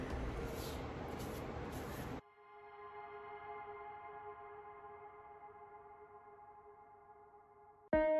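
Clear coat sprayed onto a sanded wooden card box, a steady hissing spray burst for about two seconds, followed by a long quiet stretch of faint tonal room hum and a brief sound at the end.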